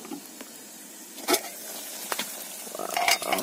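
Rice-washing water or broth for a Filipino sinabawang sikad-sikad soup bubbling in a pot, a soft simmering hiss with a few sharp clinks of a utensil against cookware.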